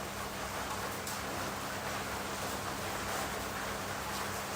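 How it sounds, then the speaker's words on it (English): Rain falls as a steady, dense hiss of broadband noise that stays even throughout, with nobody talking. "The rain is falling."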